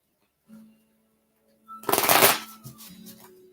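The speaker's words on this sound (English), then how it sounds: "So let me shuffle good." Tarot cards being shuffled by hand in a short burst of dense riffling, close and fairly loud, with a faint low hum and a brief soft sound before it.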